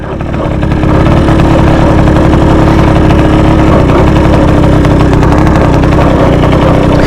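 A 1938 NSU Quick 98 motorcycle ridden off-road through wet forest and tracks, its small single-cylinder engine droning loud and close with a steady buzzing throb that builds in the first second and holds constant.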